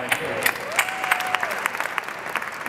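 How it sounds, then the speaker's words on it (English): Scattered clapping rises from the audience at a Rock and Roll Hall of Fame induction ceremony, moderately loud with uneven claps, while a tone briefly sounds through the hall. "Let me applaud you."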